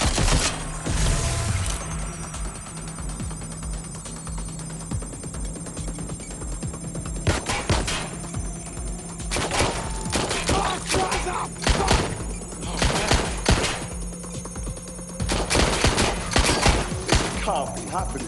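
Gunfire in the video game Watch Dogs Legion: repeated bursts of sharp shots in clusters over a steady background hum, moderately loud, with a voice speaking in places.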